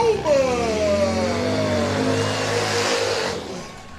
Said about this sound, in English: I hope you guys can hear that, those engines ripping by our booth.